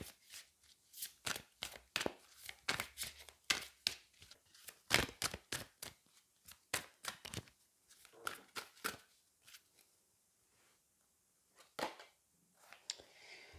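Angel oracle cards shuffled by hand in a quiet room, a long run of crisp, rapid riffling flicks and slaps in irregular bursts, close and fairly soft, easing off into a few scattered snaps near the end.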